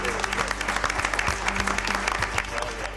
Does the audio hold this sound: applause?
yes